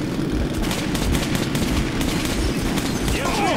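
Gunfire in Metro Last Light: dense, rapid bursts of automatic shots blend into a loud, continuous fusillade with low rumbling booms, close and unbroken.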